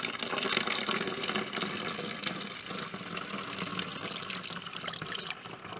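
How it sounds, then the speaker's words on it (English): Water poured into a container as the base for a homemade oven cleaner, a steady close splashing and trickling stream that runs continuously for several seconds with no talk over it. "So we're just going to pour the water right in."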